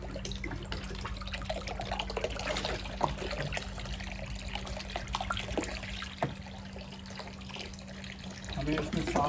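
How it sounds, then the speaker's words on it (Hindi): A liquid dispensing machine fills a bottle with a steady, close rush of flowing liquid over a low mechanical hum, lasting about nine seconds, and a voice talks over it. "पहली बॉटल भर रही है।"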